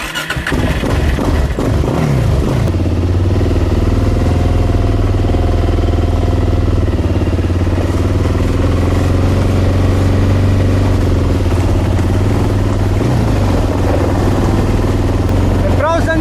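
A quad bike engine cranks briefly, fires up and keeps running at a loud, steady, throbbing idle close by for a long stretch, with some talk underneath.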